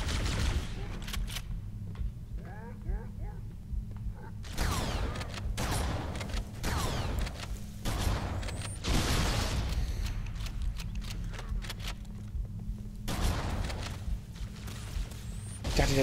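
Homing enemy gunfire in the Halo video game, heard as repeated bursts of loud, busy shots and impacts over a steady low game hum, with quieter gaps between volleys.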